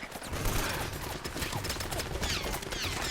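Gunfire in a firefight in Uncharted: Drake's Fortune, dense rapid bursts of shots crackling steadily throughout, loud and continuous with no clear pauses.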